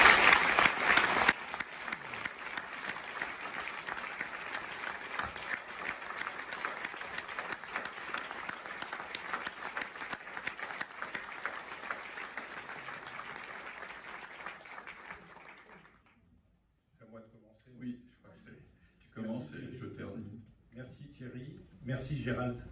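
Warm audience applause at a Cannes Classics screening of a documentary on François Truffaut, welcoming the film's guests; dense, steady clapping fills the room for about fifteen seconds, then fades into a speaker's voice addressing the audience.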